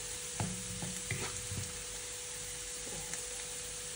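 Leftover rice stir-fries in a pan for fried rice, with a faint low sizzle under several soft scraping and clinking stirs spread across the few seconds.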